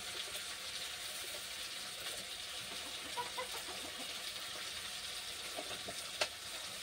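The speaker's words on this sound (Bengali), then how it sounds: "আমি পুরো মশলাটা কষিয়ে নেব" Masala with turmeric, salt and sugar sizzles in a pan, a steady close frying hiss with faint stirring scrapes and a sharp clink near the end.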